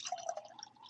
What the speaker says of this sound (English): I'm going to put a little bit of water